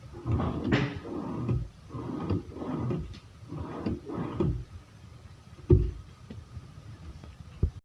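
Drawer being slid and fitted onto double-track drawer rails during cabinet assembly, giving a series of close, repeated rubbing and knocking bursts of wood and metal, followed by a sharper clunk as it seats.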